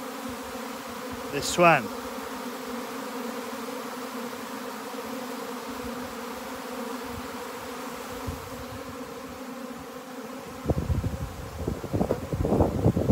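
A swarm of honey bees buzzes steadily and densely throughout, close and continuous, with wind rustle near the end and a brief spoken voice early on.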